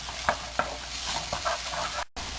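Grated ginger and garlic are stirred and fried in hot oil. A steady sizzle runs throughout, broken by regular close scraping strokes of the spoon and a brief dropout near the end.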